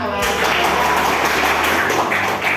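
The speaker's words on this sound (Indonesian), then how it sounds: "Tepuk tangan" An audience applauding at a school dissemination session, a dense, continuous round of clapping heard close and loud with some voices blended underneath.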